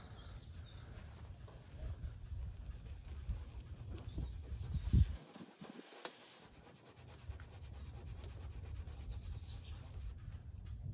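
Whitening toothpaste is rubbed on a car's scuffed paint with a microfiber cloth, giving a steady, soft, close rubbing sound that breaks off briefly around the middle and then resumes.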